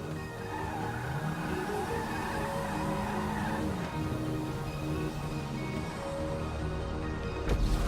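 A truck driving in the GTA V video game, its engine droning steadily with shifting pitch and some tire noise, moderately loud, with a sharp thump at the very end.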